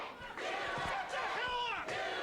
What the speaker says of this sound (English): These fans are the loudest fans you'll see here in the Pittsburgh area.